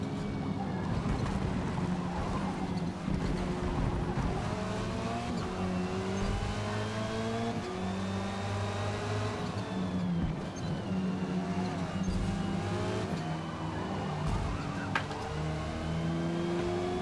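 Touring race cars in a racing video game accelerate and rev hard through a close pack, with a steady, loud engine roar and shifting pitches running continuously with no talking.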